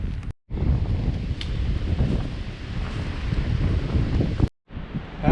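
Strong wind on a chilly hike in the Great Smoky Mountains roars and buffets the microphone almost continuously, briefly cutting out twice, with a faint rustle underneath.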